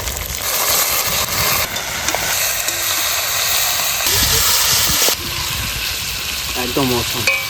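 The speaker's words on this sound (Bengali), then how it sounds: "তো এই যে আমরা দিচ্ছি এখন মাংস চড়বে এই যে কড়াইতে।" Duck meat goes into hot mustard oil in a wok with chopped onions, cooked village style in an open field, giving a continuous loud sizzle with stirring scrapes and brief clinks, plus some faint background activity.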